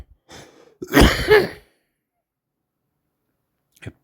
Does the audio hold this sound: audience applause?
no